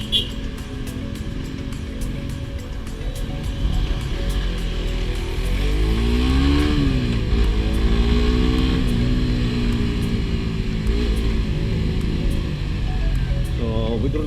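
Road traffic on Mindanao Avenue, a steady wash of engines and passing cars with rising and falling motor tones, continuous and fairly loud throughout with no one talking.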